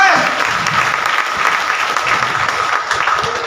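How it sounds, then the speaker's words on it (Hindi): Loud, steady applause from a crowd at a business motivational meeting in Bombay Market, Umarvada, Surat, sustained evenly throughout with no pause, a little speech-like noise mixed in. "बिहार वालों के लिए जोरदार ताली"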